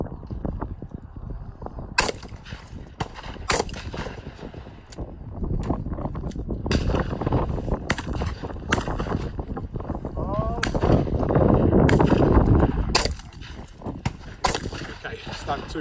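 Shotgun shots at clay targets on an outdoor shooting ground, several sharp reports spaced a few seconds apart over steady outdoor background and some talk.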